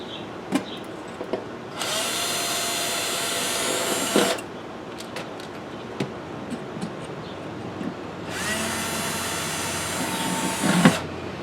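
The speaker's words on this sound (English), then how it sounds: "I'm gonna go ahead, measure and drill the holes" Two bursts of a power drill whirring with a 1/8 pilot bit, each a couple of seconds long, drilling holes in a Bradley smoker, close by, with clicks and handling knocks in between.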